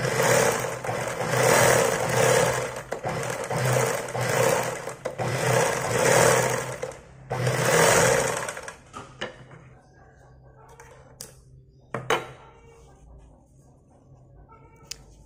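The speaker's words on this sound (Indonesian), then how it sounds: "mesin obras ini sudah menganyam" An overlock sewing machine after repair runs and stitches in loud, dense bursts of whirring mechanism for about eight seconds, then stops, leaving sparse clicks and handling knocks.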